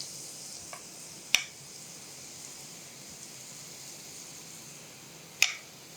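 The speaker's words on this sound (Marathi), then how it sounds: "हे जे पीठ आहे ना, हे असं सोडायचं तेलामध्ये." Gram flour batter drizzled into hot oil for vada pav crumbs sizzles with a steady soft hiss, broken by two sharp clicks; no voices.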